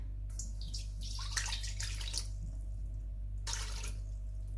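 Warm water poured into a bowl of flour, yeast and a spoonful of sugar for a soft Moroccan pancake batter, heard as a few short splashing bursts over a steady low hum.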